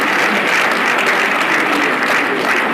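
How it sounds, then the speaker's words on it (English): Sustained applause from a large audience honoring General Yakubu Gowon, a dense, steady wash of clapping throughout with no speech over it. "Please, another round of applause for General Dr."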